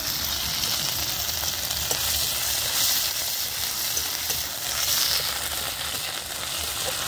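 Ginger and green chilli paste hits hot oil with asafoetida in a pan, producing a loud, continuous close-up sizzle and crackle that stays even throughout, with no voices.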